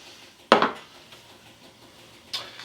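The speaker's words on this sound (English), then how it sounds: "Gotta put a can of beans in there." Canned cannellini beans tipped into a cooking pot for vegan tacos, a loud clattering thud followed by a softer knock a couple of seconds later, close by with no voices.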